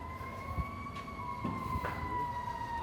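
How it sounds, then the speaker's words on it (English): An ambulance siren wails in a steady two-tone pattern at moderate distance, fairly faint, with some low road rumble and knocks beneath it and no talking. "I think the ambulance is driving away."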